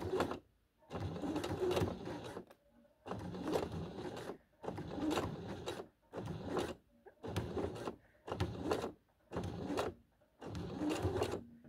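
A sewing machine stitches a patch pocket with piping in eight or nine short, even runs of rapid mechanical chatter separated by brief pauses, close and moderately loud, with no talking.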